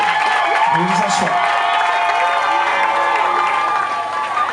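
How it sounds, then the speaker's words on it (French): An audience at a formal ceremony cheers and applauds Mr. Londesoko, a dense, steady wash of clapping and shouts close by throughout, with voices mixed into the crowd noise. "Applaudissez pour M. Londesoko, s'il vous plaît."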